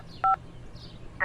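A couple of short telephone keypad tones beep in quick succession, fairly quiet against a soft background hum.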